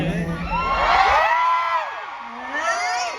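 A crowd at a pop music festival screams and cheers. High shrieks and whoops rise and fall together for several seconds, loud and close, with no clear speech.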